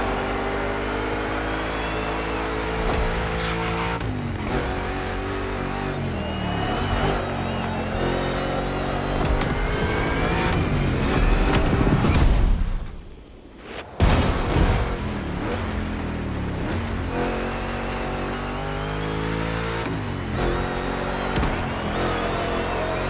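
An oversized Mustang GT racing in The Crew Motorfest video game, its engine revving loudly with rising and falling pitch through gear changes, a brief dip near the middle, then a roar back up to speed.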